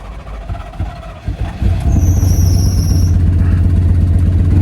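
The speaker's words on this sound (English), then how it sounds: "Tensioner's been dying for years. She does sing a pretty nice little tune." An old car engine cranks, fires and settles into a loud steady idle, with a worn belt tensioner letting out high squealing tones over the running motor.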